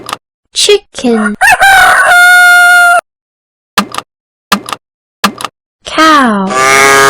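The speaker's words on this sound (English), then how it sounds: "chicken," A rooster's crowing rises and falls in loud, drawn-out harmonic calls, first in a long burst and again near the end, with short clucks or voice-like sounds scattered between.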